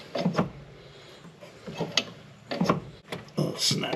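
Ratcheting clicks from a brake adjuster being twisted by hand on a 1978 K5 Blazer, coming in short close bursts of rapid ticks with brief pauses between turns.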